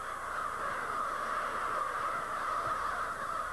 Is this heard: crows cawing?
yes